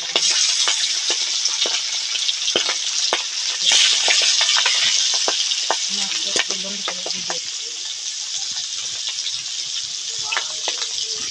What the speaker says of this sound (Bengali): তেল দিয়ে আজকে পাঙাশ মাছ গুলা ভাজা হয়ে যাবে।